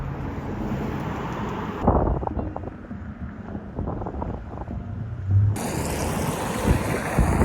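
Steady wind blows and buffets close by with a low, rumbling roar that swells and eases over several seconds.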